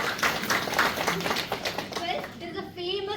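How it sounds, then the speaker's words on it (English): Audience applause at a Women's Day celebration held at Asian Paints company, dense clapping from a crowd mixed with voices and chatter throughout, fading toward the end. "So for them also let's give them a big round of applause."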